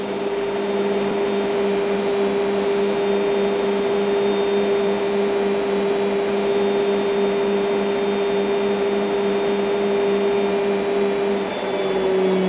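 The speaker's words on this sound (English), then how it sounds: "So we're now reaching pretty much the maximum RPM level" A washing machine drum spinning at maximum RPM in test mode, a loud, steady mechanical whine with a strong sustained hum and droning motor tone, unchanging throughout with no voices.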